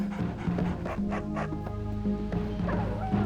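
A dog in the video game MDK barks and yips in a short run of sharp, close barks over steady game music and background sound, with no talking.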